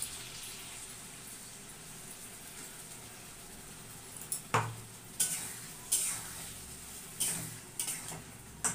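Chicken fries with onions and spices in a pan, a soft steady sizzle that turns into a run of sharp stirring scrapes and utensil clinks against the pot in the second half, close by.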